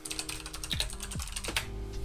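Steady typing on a computer keyboard, a dense run of close, fairly quiet key clicks with no pauses, while someone sets up a portfolio website.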